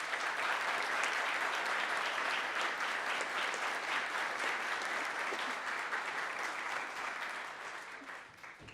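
Crowd applause at a Colombian presidential swearing-in ceremony for new cabinet ministers, a sustained, even roar of clapping that holds for several seconds before tapering off at the end.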